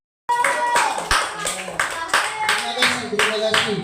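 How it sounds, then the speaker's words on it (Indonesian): A small group in a classroom-style teacher training session starts clapping abruptly after a moment of silence. The claps are close and distinct, falling in a loose rhythm of quick bursts for a few seconds. "Tepuk tangan."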